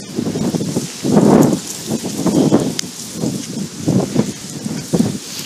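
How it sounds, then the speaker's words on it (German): Strong wind buffets a microphone beside a railway line in Rosenbach, Austria, in loud, rumbling gusts that surge and ease in repeated waves, with rustling and flapping over them. "es ist so windig"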